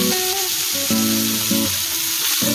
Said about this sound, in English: so we have our mince here, so gently in, and here's sizzling away there